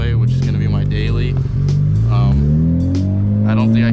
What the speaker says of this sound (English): You got some crackle there, that sounds really nice.